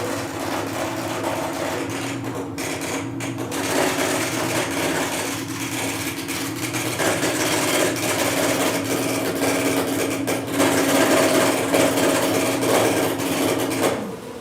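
A braille embosser embossing a math question runs steadily nearby, a continuous mechanical buzzing and rattling hum with rapid repetitive impacts, persisting loud and unbroken without any talk.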